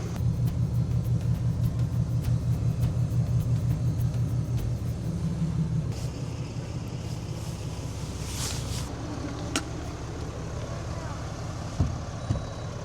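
Pickup truck with an RV hitched behind, pulling out: a loud, steady low engine rumble that eases after a few seconds, followed by scattered clunks and light rattles, with no speech.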